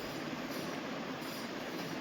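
A Patna Metro train runs with a quiet, steady rumble of rolling wheels and a faint high-pitched rail whine throughout.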